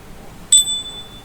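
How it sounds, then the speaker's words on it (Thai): A single bright ring of a small hand-shaken fortune bell, struck once with a clear metallic ding that sustains and fades over faint background noise. "เดี๋ยวอาจารย์จะสั่นกระดิ่งโชคลาภแห่งความสำเร็จนะครับ"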